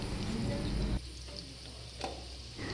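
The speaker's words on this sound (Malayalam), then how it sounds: "ചക്ക ഒരുവിധം കനം കുറച്ച് നീളത്തിൽ അരിഞ്ഞെടുത്തിട്ട് നല്ലോണം ചൂടായ എണ്ണയിലേക്ക് ഇട്ട് വേണം" Long, thin jackfruit slices deep-fry in well-heated oil with a steady, close sizzle and bubbling. The frying shifts in level now and then.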